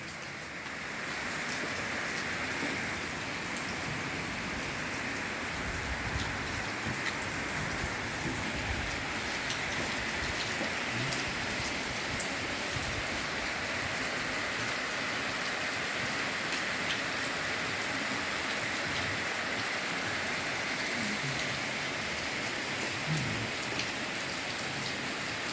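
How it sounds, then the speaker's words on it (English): Heavy rain pours steadily on a rainy day in Asebu, Ghana, a dense, unbroken hiss of drops drumming on surfaces for the whole stretch, close and with no talk. "The rain done picked up. Got a little more heavier."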